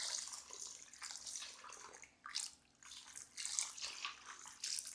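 Water is poured into a pot of South Indian fish curry (meen kuzhambu) as it cooks, making several uneven splashing gushes with brief pauses between them, close and fairly quiet.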